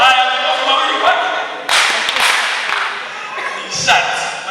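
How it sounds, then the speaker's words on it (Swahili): A church congregation in Dodoma gives a speaker two quick, loud rounds of clapping, sharp bursts of applause that rise suddenly and fade, with a voice speaking before and between them. "Makofi mawili kwake."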